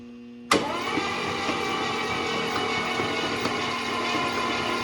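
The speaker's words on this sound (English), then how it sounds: "is gonna crank the engine over, and I'm gonna show you our oil pressure" A Mercedes 450SEL's engine cranks and fires abruptly after a brief pause, then settles into a steady, loud idle with a continuous mechanical hum.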